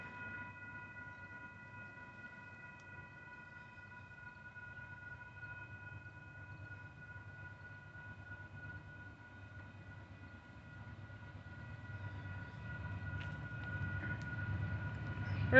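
BNSF freight locomotives 556 and 502 leading a northbound local toward Polk Yard: a steady low rumble with a sustained tonal horn-like chord, heard from a distance and swelling louder toward the end as the train approaches, with no talk.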